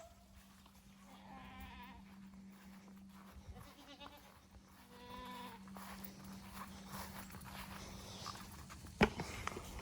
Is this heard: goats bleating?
yes